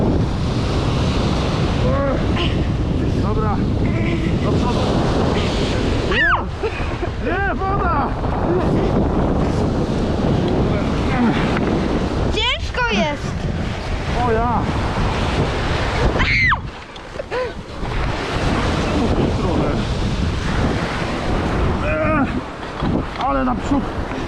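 Ocean surf rolls and breaks steadily on a beach while strong wind buffets the microphone throughout, with voices talking intermittently over the washing waves.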